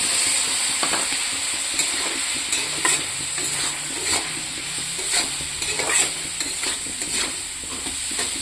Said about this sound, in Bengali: এটা দিয়ে কিছুক্ষণ কষাবো।